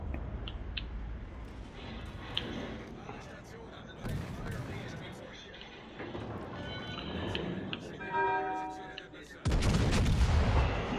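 Naval guns in World of Warships: Legends boom out in loud, broadband salvos, with a big blast near four seconds and a heavy roar from about nine and a half seconds, under busy game noise and voices.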